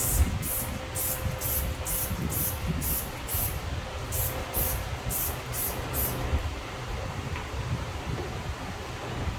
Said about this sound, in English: we're going to be using the Turtle Wax Slick and Slide, or excuse me, Turtle Wax Rapid Decon Iron Remover.